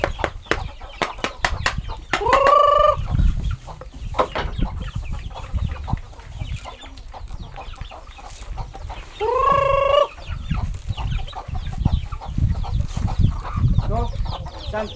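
Chickens on a farm cluck close by, with two drawn-out rising crow-like calls and busy rustling between them, while people talk nearby.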